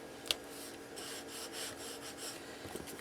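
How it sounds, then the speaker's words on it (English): A paper die cut is burnished down onto a craft surface, giving soft, steady rubbing strokes in a close, quiet scratchy rhythm with one small tap at the start. "I'm just going to burnish this down to make sure I have this really"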